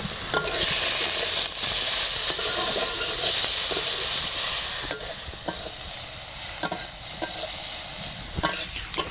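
A pan of fish curry cooks with a loud, continuous hiss and sizzle, broken by several sharp scrapes and clinks of a spoon stirring against the pan.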